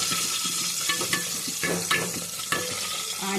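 Onions and green chillies sizzle steadily in hot oil in a pan, with a spoon scraping and stirring through them in irregular bursts, close and fairly loud, with no talking.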